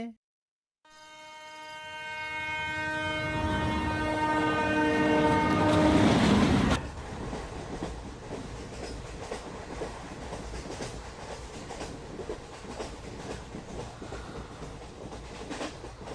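A train runs toward a station, its horn blaring loud and sustained for several seconds before cutting off, followed by steady rumbling and clickety-clack of the wagons rolling along.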